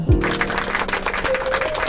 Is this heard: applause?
yes